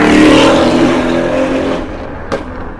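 A powerful Mercedes-AMG CLS63 engine roars loudly up close, then fades as the car passes, followed by a brief sharp crack near the end.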